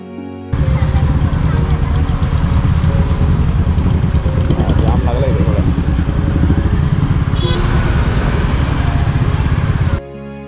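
A Royal Enfield Bullet motorcycle engine hums steadily while riding through traffic on the Mumbai–Goa road in the monsoon, loud and close, with wind noise and a faint horn in the background.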